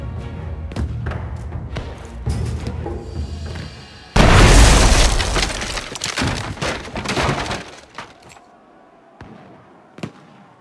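A cannon in the Shadow Tactics: Blades of the Shogun video game fires and explodes: scattered dull thumps build to one sudden, loud, roaring blast that slowly dies away, followed by a few faint knocks.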